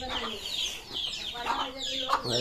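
Black tiger-breed chickens cluck repeatedly at close range in a farmyard, short bursts following one another with a low background hum and faint other bird sounds.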